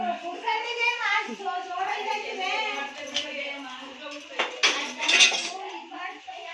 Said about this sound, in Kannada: ಪಾತ್ರೆ ತೊಳಿತಾ ಇದ್ದೀರಾ